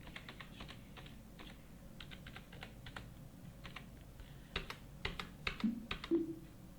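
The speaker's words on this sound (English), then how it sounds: "So type the PAN number." Someone enters a PAN number on a computer keyboard: quiet, close keystrokes in short bursts with small pauses, growing a little firmer and denser toward the end, with no voices.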